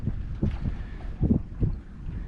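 Wind buffets the microphone on a sailboat under sail in the Gulf Islands, giving low gusty rumbles in uneven bursts that rise and fall close and loud.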